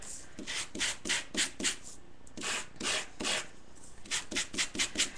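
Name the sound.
sanding Core'dinations cardstock with fine grit to reveal core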